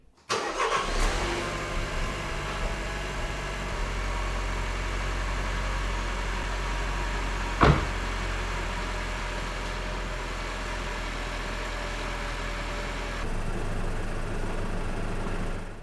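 An Opel Astra K Sports Tourer 1.4 turbo engine cranks and catches, then settles into a steady, close idle hum, broken midway by a single sharp knock and shifting slightly near the end.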